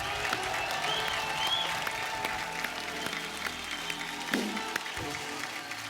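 A studio audience on a comedy talk show applauds for a singer, a steady wash of clapping that holds at moderate level throughout, with a few whistles and stray voices mixed in.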